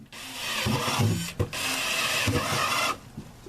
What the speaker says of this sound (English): So drill several holes in the bottom.